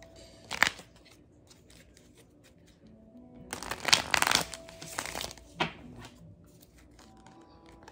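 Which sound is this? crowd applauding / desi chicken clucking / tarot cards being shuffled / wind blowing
tarot cards being shuffled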